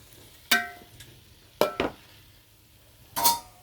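Tomatoes being stirred in a pot for a home-cooked biryani: three separate scraping, clinking strokes of a utensil against the pot, spaced apart with quiet gaps between.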